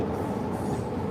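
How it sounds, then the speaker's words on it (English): A train rolling past near Huntington, a steady, loud rumble that fills the whole stretch with no talking. "That's the train."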